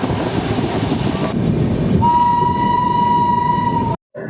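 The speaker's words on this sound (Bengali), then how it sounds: "ট্রেন প্রচন্ড বেগে ছুটে চলেছে" A passenger train on the Kolkata to Ayodhya route rumbles steadily at speed, with a loud continuous roar and a sustained high whine joining partway through, before cutting off abruptly near the end.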